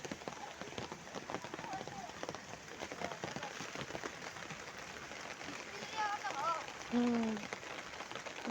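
Light rain falling outdoors on a street, a soft steady patter with faint dripping, heard under nearby talk and some distant background activity.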